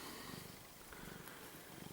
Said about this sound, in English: The black cat has followed me all the way to Blair Athol.